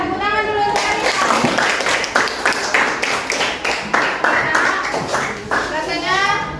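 Children in a classroom clap together in a steady run of quick, close claps, with young voices chattering and calling out over the clapping throughout.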